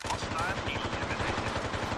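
Rapid automatic gunfire bursts in an Original Xbox military shooter demo, a fast rhythmic clatter of shots running nonstop at close range, with shouted voices mixed in.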